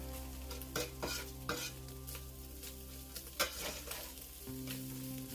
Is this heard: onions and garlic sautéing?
yes